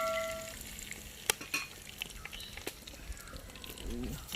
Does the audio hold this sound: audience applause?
no